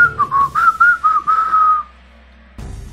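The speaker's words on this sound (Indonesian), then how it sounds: "telinga masing-masing mendengar suara siulan yang tak menentu tapi keras dan aneh" Loud, wavering whistling with a shrill, irregular melody that rises and falls in short bursts, then stops, followed by a low rumble.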